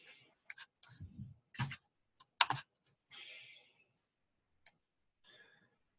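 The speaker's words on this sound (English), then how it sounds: "If I'm typing in the number, I normally just type in the number from Google" Typing on a computer keyboard, with short bursts of clicking keystrokes and gaps between them, fairly quiet and close with no talking.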